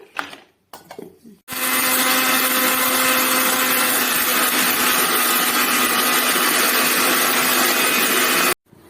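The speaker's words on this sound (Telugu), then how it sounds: "వేయించుకున్న జీలకర్ర ధనియాలు మెంతాలు కొద్దిగా చెక్క వేసి బాగా మిక్సీ పట్టుకోవాలండి" A mixer grinder whirs loud and steady for about seven seconds, grinding roasted cumin, coriander, fenugreek and a little cinnamon, preceded by brief rattling bursts and cutting off abruptly.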